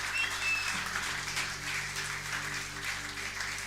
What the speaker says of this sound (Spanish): Fuerte, fuerte ese aplauso para el Señor.